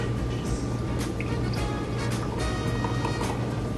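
Espresso pours into a cup from a new home coffee machine, a steady liquid trickle with soft drips over a low background hum.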